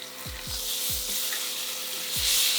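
Sirloin steak with garlic sizzles in a pan with a steady, close frying hiss, broken by a few dull low thumps.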